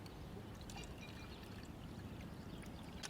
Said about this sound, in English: Cover it up and pour in some of our water.